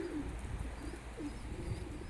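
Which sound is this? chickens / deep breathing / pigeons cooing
pigeons cooing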